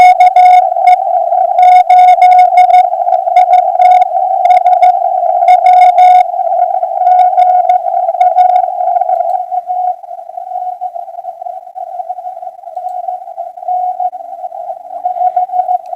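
Amateur radio receiver background noise: a constant whining tone over busy crackling static that thins out and softens after the first half, leaving a steadier, quieter hum.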